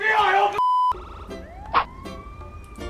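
An ambulance siren in a game scene where a police car has also arrived, heard as a steady electronic wail with rising and falling tones, fairly loud and close, with brief bursts of other sound around it and no talk.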